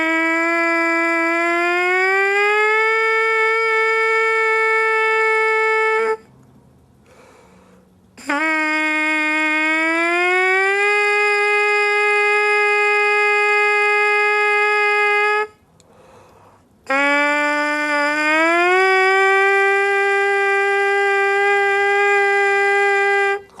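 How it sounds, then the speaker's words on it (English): Three long sustained brassy buzzing tones from a trumpet mouthpiece played alone by a jazz trumpeter, each sliding upward in pitch then holding steady, separated by short pauses, loud and close with no talking. "I might play some things on the mouthpiece alone."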